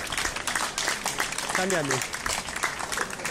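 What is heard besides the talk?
audience applause at an outdoor culture festival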